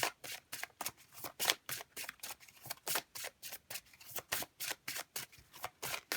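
Oracle cards being shuffled by hand, a steady run of crisp riffling bursts repeating roughly every third of a second, close and fairly quiet with no talking.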